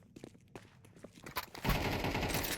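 Tec-9 gunfire during a Counter-Strike match, sparse scattered clicks and shots giving way to a loud, rapid continuous burst in the final second, with no speech.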